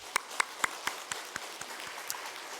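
Rhythmic, spaced hand claps ring out in a reverberant church during a Sunday service, about ten claps that gradually soften, with no voices over them.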